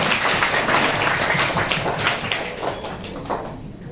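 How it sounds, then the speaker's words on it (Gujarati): Classroom applause for a student at a quiz, a burst of many children clapping hard, dense and close, then gradually thinning and fading out. "એકવાર જોરદાર તાળી થઈ જાય કાવ્યા માટે."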